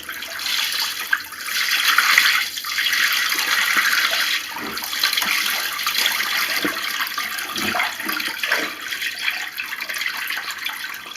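Water pours steadily out of a bucket into a shower or drain area, a continuous close splashing gush lasting the whole stretch with no talking.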